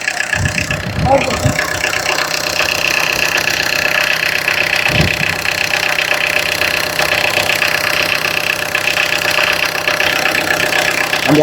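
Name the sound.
used car engine idling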